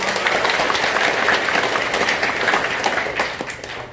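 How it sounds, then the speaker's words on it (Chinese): A church congregation at an autumn revival service applauds to thank the choir, with dense, steady clapping from a large crowd that holds for several seconds and tapers slightly at the end. "掌声感谢他"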